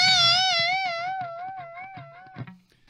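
An electric guitar holds a string bend with a wide, fast vibrato, the pitch swinging up and down evenly, loud at first and fading over about two seconds, then a brief pick scrape at the end.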